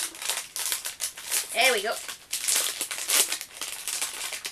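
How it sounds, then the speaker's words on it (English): A plastic candy wrapper crinkles and rustles close by in irregular bursts as the package is worked open, while a person talks intermittently over the handling noise. "Smart people use scissors if they can't open a package."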